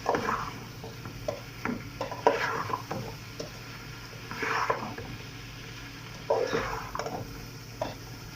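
Chopped cauliflower, eggplant, potato, okra, bell pepper and carrot are stirred in a cooking pot, with a spoon scraping and clinking in several uneven bursts over a low steady hum.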